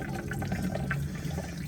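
Antifreeze drains out of a 2001 Toyota Camry during a thermostat replacement, making a steady close trickle of liquid that runs continuously for a moment, with no talking.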